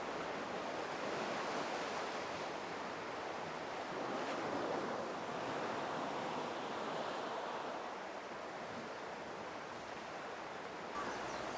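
Ocean waves wash steadily onto a beach, a continuous broad rushing surf with slow swells in loudness and some wind noise across the microphone, with no voices.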